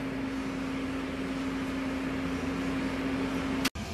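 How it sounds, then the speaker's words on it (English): Constant mechanical whir with a steady hum, like an air dryer running, ending with a sharp click and brief drop-out. "Air dryer is already going"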